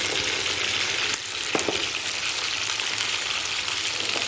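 Round gourd (tinda) sizzles steadily in a pan over a low flame, a soft, even frying hiss with a few light clicks of stirring, no voices.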